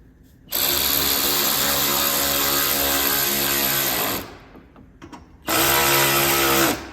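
A power tool whirs loudly in two bursts, a long run then a short one after a brief pause, driving the bolts of a splash guard on a 2022 Toyota Tundra, close up with no speech.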